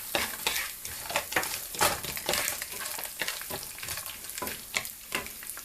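Roasted peanuts go into a pan of cooked onions for oats upma, a continuous frying sizzle broken by repeated scraping stirs of a spoon against the pan, close and fairly busy.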